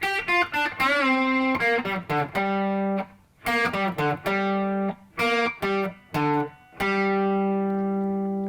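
A distorted electric guitar plays a phrase from a guitar solo, with short separated notes, bends and sustained tones that pause briefly between runs and ring out clearly on their own.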